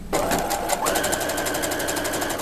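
Sewing machine stitching a ruffle on doll clothing, a close, fast and even run of needle clatter that stops briefly and then picks up again at a steady pace.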